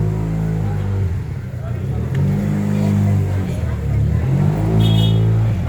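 A motor vehicle drives past on a street beside the walled Old City of Jerusalem near Damascus Gate, its engine a loud, steady rumble that swells and rolls on close by for several seconds, with people talking over it.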